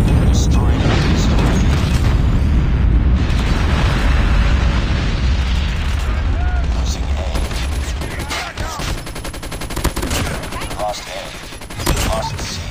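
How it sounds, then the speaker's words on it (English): A nuke detonating in Call of Duty multiplayer, a loud sustained roaring boom with rumbling gunfire-like crackle, then settling into scattered game noises and effects toward the end. "Friendly nuke has been launched."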